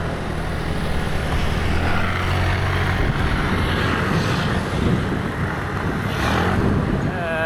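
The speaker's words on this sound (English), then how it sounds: "I'm still hearing the engine, the sound of the jet engine even now" Jet aircraft engines roar overhead on a morning in Tainan, a steady, loud, broadband rumble filling the whole stretch with slight swells, close and continuous with no talk over it.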